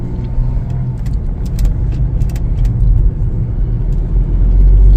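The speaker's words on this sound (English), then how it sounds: "Let's take it for a little test drive." A 2025 Chevrolet Trax 1LT on a test drive: steady low engine and road rumble from inside the cabin with light rattles, building slightly louder toward the end.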